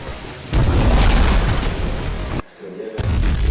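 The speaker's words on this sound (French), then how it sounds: "Que d'explosions dans ce jeu." Heavy, booming explosions roar across the whole clip, one blast after another, cutting out briefly before another loud rumbling burst resumes.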